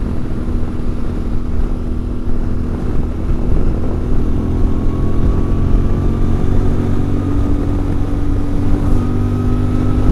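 CFMOTO MT450 motorcycle engine pulling hard up a hill, a steady loud drone with the pitch gradually rising as revs climb, close and continuous without speech.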